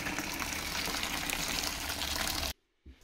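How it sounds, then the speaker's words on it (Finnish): Hot water gushes steadily into a bucket of hay pellets, a dense, loud splashing pour lasting over two seconds before stopping abruptly, followed by a brief faint knock. "Sitten kuuma vesi pellettien joukkoon jätetään puuroturpoamaan."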